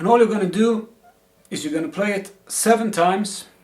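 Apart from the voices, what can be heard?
None of the usual background noises is heard.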